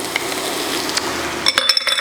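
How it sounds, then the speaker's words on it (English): Chopped fresh garlic is stirred into vegetables cooking in a pot for black-eyed peas, with a steady sizzle underneath and a burst of close utensil clinks and scrapes against the pot near the end. "And give it a stir."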